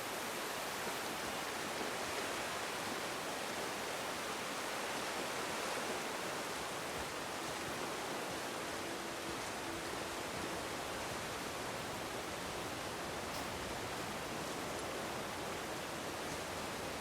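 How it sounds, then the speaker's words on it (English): Waterfall ambience in God of War on PS4 Pro: a constant broadband roar of rushing, splashing water, steady and unbroken, heard alone with no voices. "are being masked by the ambient sounds of the waterfall"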